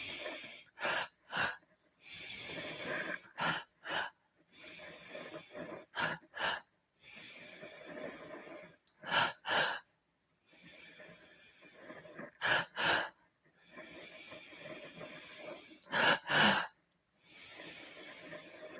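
Loud, forceful breaths in a rhythmic breathing exercise during meditation, rapid hissing inhales and exhales in quick bursts broken by short pauses, close to the mic with no talking.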